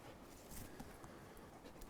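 An old hunting hound panting quietly, a soft, steady rhythm of breaths close by against low background noise.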